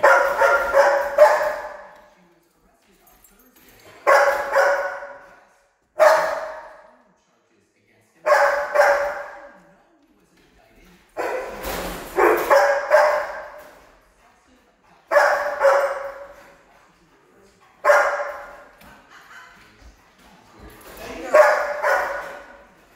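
Dogs bark in repeated bursts of several sharp barks, separated by short pauses, close and loud throughout, during board-and-train obedience work with other dogs.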